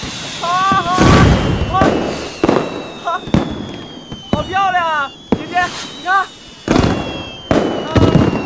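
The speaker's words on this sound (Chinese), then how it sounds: "我给你放烟花吧" Fireworks set off at night give repeated sharp bangs and crackling bursts with whistling trails, loud and close, with brief voices between the explosions.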